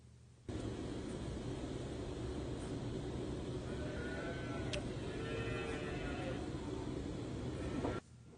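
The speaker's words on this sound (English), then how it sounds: "You can hear all our hungry little baby calves in the background." Several hungry young calves bleat and bawl repeatedly over a constant low background hum, the calls overlapping at moderate distance.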